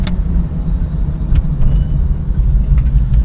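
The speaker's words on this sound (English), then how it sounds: "we got the back off, so you'll have some type of wind noise, but drive super smooth" A 1983 Chevrolet K5 Blazer with its rear top removed drives along, giving a steady, loud low rumble of road and wind noise from inside the cab, with no talk.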